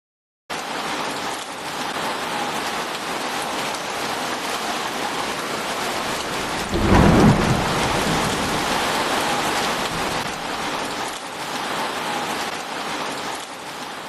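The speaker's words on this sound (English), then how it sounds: "The storm lasted all through the night." Steady rain pours down continuously, with a low rumble of thunder swelling briefly in the middle before the downpour carries on.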